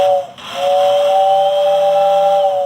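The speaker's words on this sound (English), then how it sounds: "And we also have a whistle push button" An American Flyer toy train's electric whistle, sounded from a layout push button, gives a steady two-tone hooting blast with a hissy edge, briefly interrupted near the start, then held continuously and loud close by.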